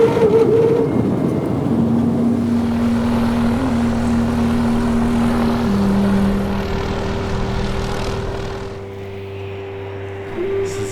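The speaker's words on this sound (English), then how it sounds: "after a slightly harrowing flight, we landed at Lukla in the Himalayan mountains" Propeller airplane landing on the steep uphill runway at Lukla Airport in the Himalayas, a steady loud engine drone with sustained tonal hum that shifts pitch partway through and eases slightly toward the end, with no talking.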